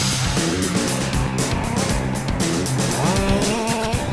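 A loud, buzzing small gas engine on a 1/5-scale off-road RC car revs continuously with a raspy, high-pitched whine, rising and falling in pitch as it accelerates.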